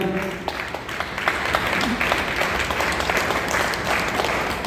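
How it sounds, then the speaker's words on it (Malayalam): An audience at an indoor meeting applauding a welcomed guest, a dense, steady wash of many hands clapping that holds at even loudness throughout. "ഒന്ന് കൈയടിക്കാം"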